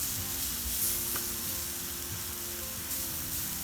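Portobello mushrooms sizzle on a hot outdoor grill, a steady soft crackling hiss close by with no voices.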